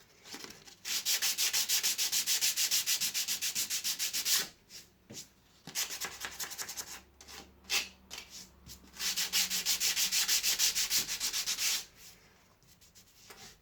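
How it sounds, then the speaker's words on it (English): Sandpaper rubs at an angle along a window sill, a steady rasping scrape in long strokes with brief pauses between passes, close and fairly quiet, with no talking. "is just run a bit of sandpaper like so at an angle, just to create a little bit of a groove or a gap at the bottom here"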